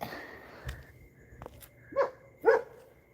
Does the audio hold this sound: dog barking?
yes